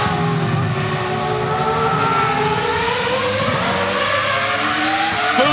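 A racing car at the Festival of Speed roars past at full throttle, its loud engine note climbing through the revs in steady sweeping tones, alone without talk for over five seconds.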